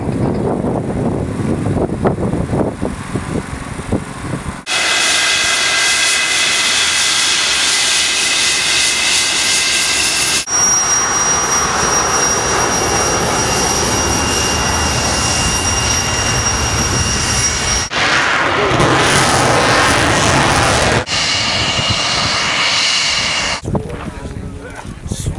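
English Electric Lightning jet XS 904 passing overhead as a loud, sustained roaring engine noise that shifts in character several times, with wind buffeting the microphone and no talking.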